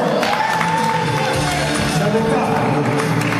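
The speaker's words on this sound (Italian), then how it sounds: "Voglio sentire un applauso per il cuoco" Applause and cheering for the cook at a party hall in Foggia, a dense crowd roar of clapping, shouts and whoops, loud and unbroken throughout.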